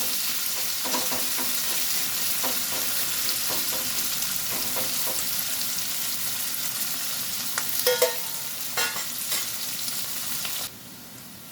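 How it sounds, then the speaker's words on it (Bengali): Sliced onion sizzles in hot oil in a pan, lightly fried before ridge gourd goes in, with occasional stirring scrapes. Steady, close frying hiss, with a few louder stirring knocks near the end before it drops away. "পেঁয়াজটাকে সামান্য একটু ভেজে নেবো বেশি ভাজার দরকার নেই"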